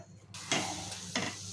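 Thick spiced gooseberry candy mixture is beaten in a pan, with two brief scraping strokes over a low, hissing sizzle, close and quiet.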